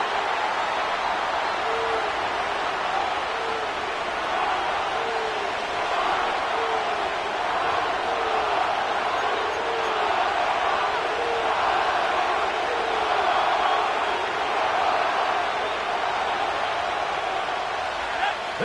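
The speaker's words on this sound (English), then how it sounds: "This crowd into it now as we get to third down." Stadium crowd noise from a football video game, Cowboys at Seahawks, a steady loud roar of cheering that swells slightly toward third down and runs the whole way through, with a commentator talking over it.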